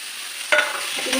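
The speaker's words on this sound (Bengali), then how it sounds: "সামান্য একটু লঙ্কা গুঁড়ো দেবো এর সাথে মোচাগুলো দিয়ে আমি নাড়াচাড়া করব" Banana flowers being stirred with chili powder in a pan, a short scraping stir over a steady background sizzle, close and fairly loud, with two distinct spoon strokes.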